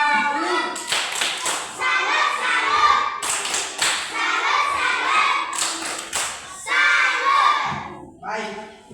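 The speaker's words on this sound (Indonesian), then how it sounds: "Tepuk salut untuk dia dulu." A classroom of children performs a rhythmic tepuk salut, chanting in unison while clapping patterned bursts of hand claps and thumps. The groups of claps are separated by short pauses, and the voices are loud and close.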